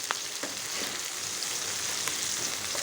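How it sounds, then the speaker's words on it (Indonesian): Large red chilies sautéing in a pan for a siomay and batagor seasoning paste give a steady, close sizzle and frying crackle with faint stirring throughout and no talk. "Kita tumis sampai layu untuk cabai besarnya."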